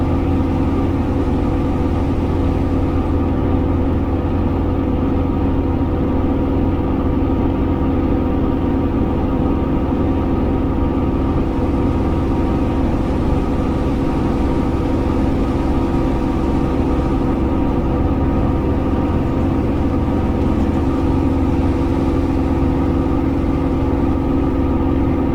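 Spitfire Mk IX aircraft engine in a flight simulator video game, a steady droning hum at constant power, loud and unbroken throughout with no other sounds.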